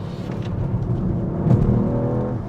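A Ford Puma ST engine hums steadily while the car is driven, a low continuous drone with slight rises in revs and some road noise, heard from inside the cabin with no talking.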